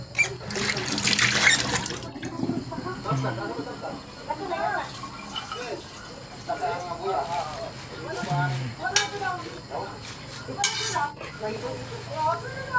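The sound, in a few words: rinsing food under running water in a sink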